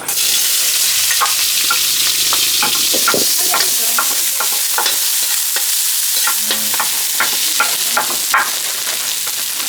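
Food sizzles and fries steadily in a pan, loud and close, while a utensil scrapes and clatters as it stirs, giving irregular sharp knocks throughout, with no talking.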